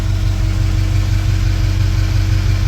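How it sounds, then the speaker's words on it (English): EB Ford XR8 V8 engine idling, a steady deep rumble close by with an even low throb and no revving. "it's sitting there in idle, seems okay, revs really well"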